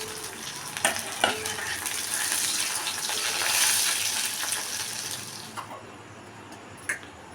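Marinated chicken pieces fry in oil with a loud, steady sizzle that swells and fades, punctuated by occasional stirring knocks.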